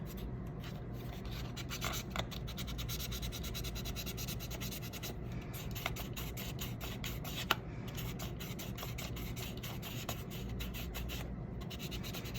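Continuous soft scratchy rubbing of a Godhand Kamiyasu 4000 grit sanding sponge, fine polishing grade, worked back and forth at close range, with a few small clicks and no talk.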